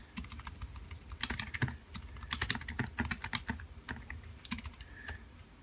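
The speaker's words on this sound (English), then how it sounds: "Type in Instagram because I talked about that." Quick, close clatter of fingers on a computer keyboard as a word is typed: a dense, irregular run of key taps with short pauses, and no voice.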